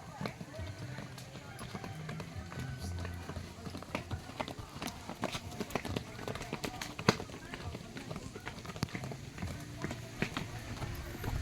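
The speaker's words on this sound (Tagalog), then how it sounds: "Kabayo nga po kinakargahan dito" Hooves of a horse being loaded clip-clop in a steady, close rhythm of repeated knocks, with a steady background din underneath.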